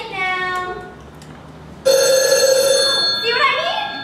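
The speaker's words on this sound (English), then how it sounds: "All I got to do is wait for the phone to ring." A telephone rings during a stage play, with bright electronic ring bursts: a shorter tone first, then a louder sustained ring from the middle onward, heard fairly close and clear with little else around it.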